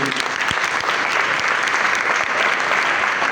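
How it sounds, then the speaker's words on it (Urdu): A church congregation claps loudly and continuously, a dense wash of hands with no pause. "زوردار تالی بجائیں خدا کے لیے."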